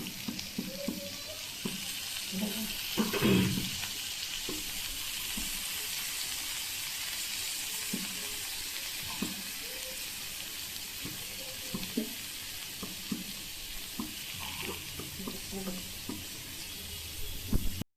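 Fish pudding mixture with lemon stirred and sizzling in a frying pan, a steady crackling fry under repeated spatula scrapes and stirs, close up with no talk.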